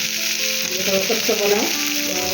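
Garlic and ginger hit hot oil in a pan with a loud, steady hiss and crackle of frying, lasting throughout without talk.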